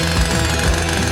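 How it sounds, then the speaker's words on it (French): A chainsaw runs steadily and loud throughout, a continuous buzzing drone with a slight pulsing in its low rumble and no gaps or speech. "La tronçonneuse va sûrement faire l'affaire."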